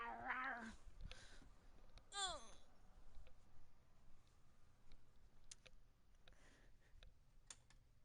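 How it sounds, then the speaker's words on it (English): Cat meowing nearby, one drawn-out meow and then a second rising call, heard against a quiet room with faint ticking and clicking. "What do you want, cat?"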